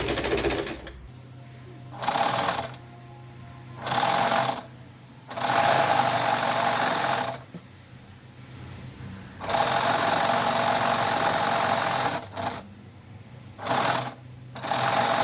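A sewing machine zigzag-stitches fabric pieces for a custom-size drawer organizer before bias binding is added, running in repeated loud bursts of rapid stitching separated by short pauses.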